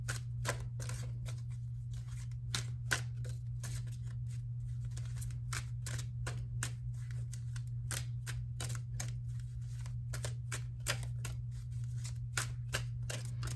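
Cards are riffled and shuffled in quick, crisp bursts of clicking and flapping, repeated over and over, up close over a low steady hum.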